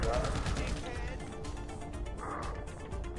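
Rapid gunfire in the video game GTA V, dense bursts of shots crackling over game noise while a voice talks over the action.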